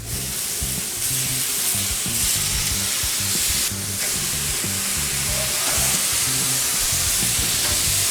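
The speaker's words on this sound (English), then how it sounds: "I'm going to go ahead and lay down our carne asada" Carne asada laid on a Blackstone griddle heated to medium sizzles and fries steadily and loudly throughout, a constant close-up crackle with no voices over it.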